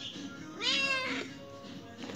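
A kitten gives one clear, fairly loud meow close by in a neighborhood setting, followed by quieter background sounds.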